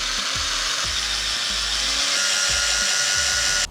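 A power drill bores through a golf ball at the dimples, a loud continuous whirring grind that holds steady for several seconds and cuts off abruptly at the end.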